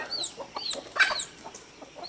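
A hen clucks repeatedly among poultry, short chirpy calls coming in bursts with other birds chirping high around it, close and fairly clear.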